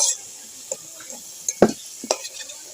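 Potatoes fry in oil with salt and turmeric, a steady high sizzle under a few sharp spatula scrapes and clinks against the pan, close by with no talking.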